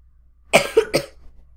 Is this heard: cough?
yes